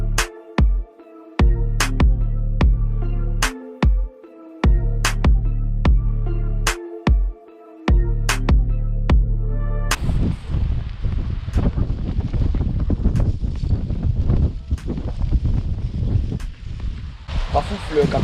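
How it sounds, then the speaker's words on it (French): Wind gusts buffet the microphone during a boat cartridge renovation project, a rough, broadband rush that takes over in the second half after a stretch of sharp rhythmic clicks and tones; no talk is heard. "Il y a du vent."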